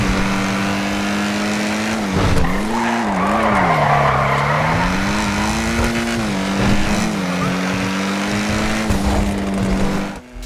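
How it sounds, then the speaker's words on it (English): Lampadati Komoda sports car in GTA Online with a raw, loud engine note revving up and down steadily for about ten seconds, pitch rising and falling with throttle, alongside some tire skidding. "I think this has a really lovely engine note"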